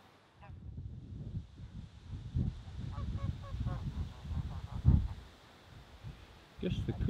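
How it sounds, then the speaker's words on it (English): Geese honking together in a low, muttering chorus, with scattered calls rising over steady outdoor background noise; a person passes nearby on a bike and speaks briefly. "They all sound like they're muttering to one another, don't they, geese?"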